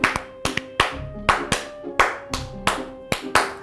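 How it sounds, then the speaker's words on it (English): A single person claps hands in short, sharp bursts, roughly nine or ten distinct claps with uneven gaps, close and fairly loud, with no talk over them. "And then there is the applause."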